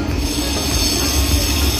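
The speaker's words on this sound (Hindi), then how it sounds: "ये लखनऊ मेट्रो है" Lucknow Metro train crossing a bridge over the Gomti river, a loud steady rumble of rolling wheels with a continuous high squeal running throughout, close and without any talking.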